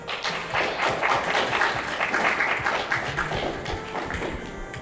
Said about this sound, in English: So by a round of applause, who likes the Super NES one better?